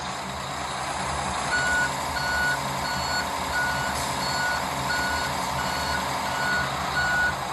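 A truck's reversing alarm beeps at a steady, evenly spaced rhythm in a truck driving simulator game while backing into an alley dock, over a constant low engine drone.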